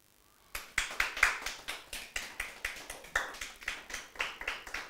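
Applause breaking out in a church after a prayer, a steady run of sharp handclaps in an even rhythm, close and clear, with no talking over it.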